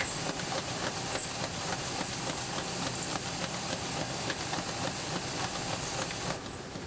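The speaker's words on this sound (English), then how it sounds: "Here you can see how the paddles work to tightly nest the trays together on discharge." A Pad-O-Matic 300Map high-speed barrier tray padder running on a packaging line, its paddles nesting trays together at discharge, producing a dense, continuous mechanical clatter and whir with rapid rhythmic knocking, loud and close.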